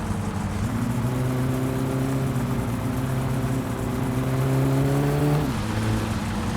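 Satsuma car in the My Summer Car game running with no exhaust fitted, a raw, droning engine note that holds and rises slowly, then drops abruptly near the end, loud and unbroken.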